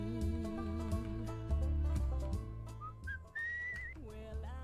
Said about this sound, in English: Just whistle the pain away.